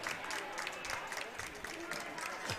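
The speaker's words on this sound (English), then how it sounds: "And the crowd approves." Crowd applause at a curling bonspiel women's final, a broad sustained clatter of clapping hands at moderate distance, steady for a few seconds without a clear break.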